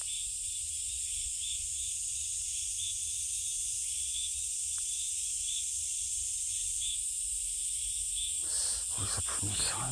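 Cicadas drone in a dense, high-pitched buzz that holds steady throughout, with a few brief rustles near the end.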